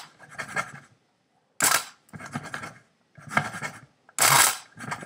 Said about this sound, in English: I need to coarsely grind these beans. So, noisy time.